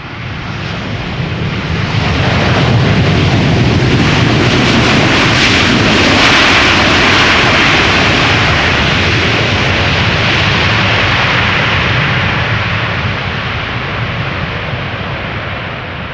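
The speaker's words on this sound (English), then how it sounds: "The first A350 of the show, Delta Airlines flight 74, arriving from Atlanta, Georgia." A Delta Air Lines Airbus A350 jet arrives at Schiphol Airport, a loud, sustained roar of engine noise that builds and holds for the whole stretch, close and overwhelming, with no talking.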